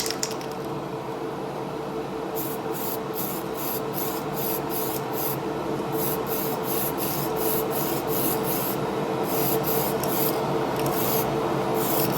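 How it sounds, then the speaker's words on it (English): A spray paint rattle can being shaken to mix base or clear coat, giving a steady rapid rattling and rubbing that runs continuously throughout, close and fairly loud, with no talking. "Just give the rattle can a little bit more time to mix"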